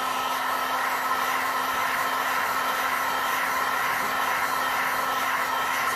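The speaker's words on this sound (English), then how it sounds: "let's get the heat gun out" A heat gun blows hot air over a setting resin drip bowl sculpture, producing a constant, close, steady whooshing hum with a faint electrical whine and no voices.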